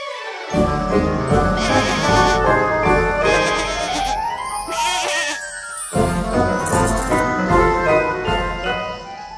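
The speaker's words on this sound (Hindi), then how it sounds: "ये जादुई बकरी है" A goat in an animated folk tale bleats repeatedly in drawn-out, wavering cries, mixed with light jingling and background music.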